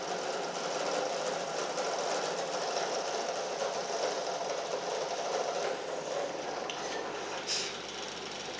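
A drill bores holes into the headstock of a double-neck guitar, producing a steady, continuous mid-level whirring buzz that holds for the full stretch and eases slightly near the end.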